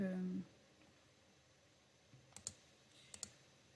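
A computer mouse clicks twice in quick pairs, small sharp double clicks heard close and quiet after a brief bit of speech in a presentation-editing session.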